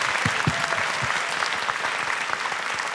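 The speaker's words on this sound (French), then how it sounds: "Bravo, on les applaudit." A studio audience at an open-mic taping claps, steady applause with some close, punchy hand claps early on, full and continuous throughout.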